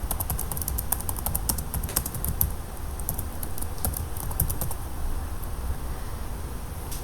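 A file name is typed on a computer keyboard in quick, uneven bursts of crisp key clicks, close and moderately loud, with brief pauses between runs of keystrokes.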